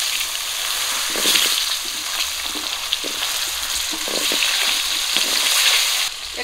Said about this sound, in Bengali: মাছ ভাজা তেলেই আমি ধুয়ে রাখা আলুগুলো ভেজে নেব